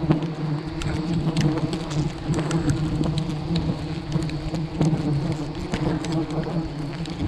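Many bees drone loudly and continuously around a wild beehive high in an old tree, with individual insects zipping close past amid a dense, steady hum.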